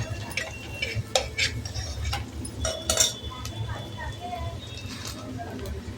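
Vegetables with turmeric and onion sautéed in oil in a pan for a Khandeshi dish, with intermittent clinks and scrapes of a spoon stirring against the pan under a steady low background hum.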